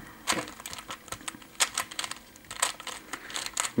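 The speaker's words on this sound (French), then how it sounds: "je vais utiliser le 3x3 normal. Que je vais lui aussi mélanger." A standard 3x3 Rubik's cube being scrambled by hand, giving close, irregular bursts of quick plastic clicks and clacks as the layers are twisted, with short pauses between flurries.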